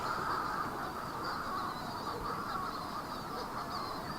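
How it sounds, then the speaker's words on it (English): Dense chorus of Manx shearwaters calling at a breeding colony on Puffin Island, a continuous wall of overlapping cries filling the air steadily throughout with no voices. "so you can't hear anything but shearwaters."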